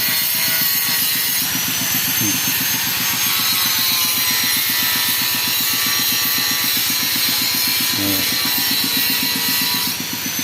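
Angle grinder cutting stone cladding for a house pillar, a loud, continuous abrasive grinding with a fast rhythmic pulsing, close up and alone, with brief pitch shifts as the blade bites.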